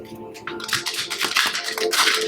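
Tarot cards are shuffled by hand in short bursts of crisp riffling and flicking, close and fairly loud, with a voice speaking softly in the background.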